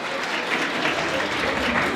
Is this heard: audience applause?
yes